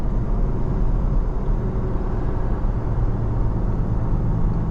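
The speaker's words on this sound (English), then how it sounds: "You push the pedal down, it just slowly accelerates." A 2020 Toyota Tacoma 4x4 pickup accelerates slowly from inside the cab, giving a steady, low engine drone and road rumble with no voices.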